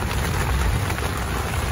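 Rain falls at a campsite in Jamaica, a dense, constant hiss of drops on surfaces, close and fairly loud, with no voices.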